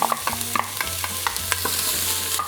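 Onion and jalapeno sauté in olive oil inside an Instant Pot, with a close sizzle broken by repeated scraping stirs and clinks of a utensil against the pot. No one is talking.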